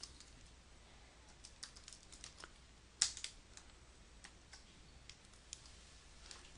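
Light, irregular keystrokes tap on a computer keyboard in a quiet room, with faint clicks scattered throughout and one sharper, louder key press near the middle.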